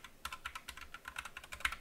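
Rapid typing on a computer keyboard, a fast irregular run of sharp, light clicks close to the microphone, quiet overall and without talk.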